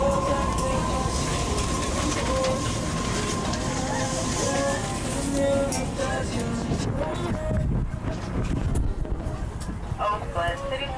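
BART train running through Oakland toward Antioch, a continuous rumbling roll with droning motor tones and occasional higher squeals, heard from onboard with some talk over it.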